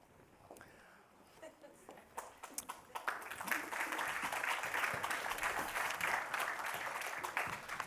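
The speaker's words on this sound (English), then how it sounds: "You get a round of applause just for being able to get onto a stage" An audience breaks into applause as a panel takes the stage at a film-market event, starting with scattered claps that swell into steady, full clapping from a sizable crowd.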